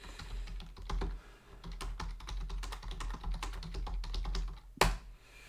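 Rapid typing on a computer keyboard to enter a message in a chat, with dense, uneven key clacks close by and one sharper tap near the end.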